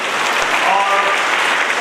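Audience at an agricultural science talent award ceremony breaking into loud, sustained applause, dense steady clapping from a large crowd close by that holds an even level throughout.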